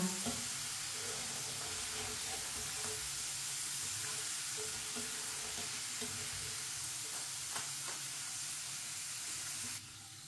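French fries frying in oil on a stove: a steady, dense sizzle that holds for the whole stretch at constant loudness, with a few faint clinks and a slight drop near the end and no talking.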